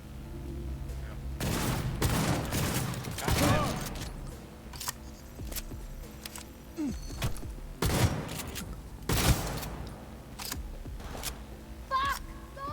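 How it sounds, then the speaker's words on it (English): Loud shotgun blasts from the Cyberpunk 2077 video game, four or five heavy booms spaced a few seconds apart, with voices and game sounds in between. "I couldn't hear that over the sound of my shotgun."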